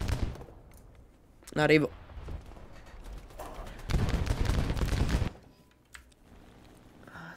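Rapid bursts of 20mm cannon fire from a P-51 fighter in the air-combat game War Thunder: a short burst near the start, then a longer sustained volley, loud and dense, with a player talking briefly between them.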